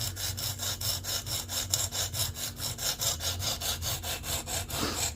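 Steady back-and-forth scraping of a Kizer Begleiter knife blade stroked over a sharpening stone, an even rhythm of roughly four strokes per second, close and continuous, with no voices.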